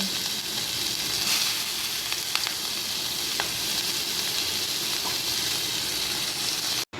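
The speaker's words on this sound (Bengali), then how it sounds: "তেল কিন্তু গরম হয়ে গেছে। এবার আমি এখানে দিয়ে দেব পেঁয়াজ, লঙ্কা আর হলো" Onions, chilies and garlic sizzle steadily in hot oil in a pan, a continuous loud frying hiss with faint crackles and a brief stir clatter, no talking, cutting off abruptly near the end.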